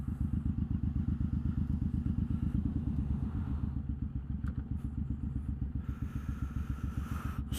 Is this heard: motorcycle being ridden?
yes